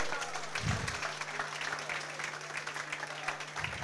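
Audience applause at a coffee show with a flambéed Siracusa-style espresso dessert: a continuous, fairly soft wash of clapping from a crowd, with low voices murmuring underneath throughout.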